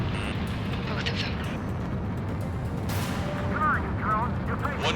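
Explosions and heavy blasts from a docking module being destroyed in the combat flight game Ace Combat 7, a dense continuous rumble of booms and artillery-like fire with voices speaking over it.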